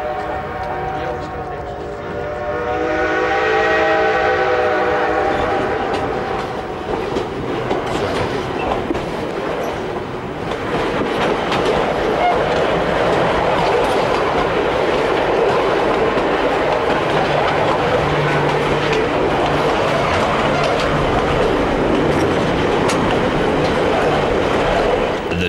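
White Pass and Yukon Route narrow-gauge train running on rails near Alaska and the Yukon: a long, loud, steady rumble with clickety-clack wheel beats, opening with a horn-like tonal blast in the first few seconds.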